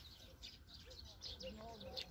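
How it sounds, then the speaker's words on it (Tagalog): Many birds chirp near their nest outdoors, making faint, scattered high tweets and short calls spread across a couple of seconds over soft background noise. "Kaya ang daming mga ibong humuhuni-huni."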